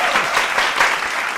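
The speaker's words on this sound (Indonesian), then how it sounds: "Tepuk tangan dong di belakang sana." An audience claps in dense, sustained applause, bright and fairly close, filling the whole short moment at a talk event.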